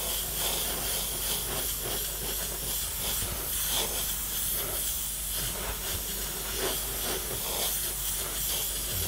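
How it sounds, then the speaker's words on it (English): An airbrush sprays Payne's Grey base coat paint onto a skull design, a steady close airy hiss that runs continuously with slight pulsing in intensity. "which was to spray the Payne's Grey as our base colour"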